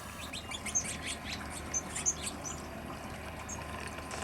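Birds chirp near a garden water fountain, with short, high tweets scattered over a steady, soft wash of running water, fairly faint and with no voices.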